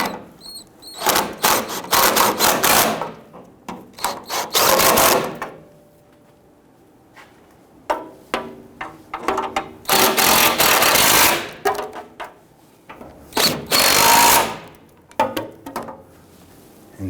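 A hand ratchet snugs down the four alternator mounting bolts on a 2007-2021 Toyota Tundra with the 4.7L V8, heard as several bursts of rapid clicking broken by short pauses, fairly close, with no talk.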